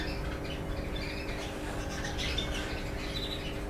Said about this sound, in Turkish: Bakın şu papağanlar çok güzel